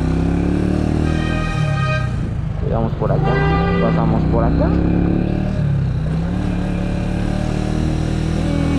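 An Italika DT 125 delivery motorcycle climbs a street, its engine droning steadily up close. Someone talks over it, and a brief horn or tone sounds midway.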